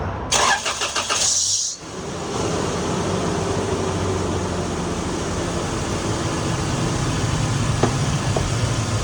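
A 1998 Toyota 4Runner with a junkyard engine cranks briefly with a rapid starter whir, catches, and settles into a steady, loud idle close by, with no talking.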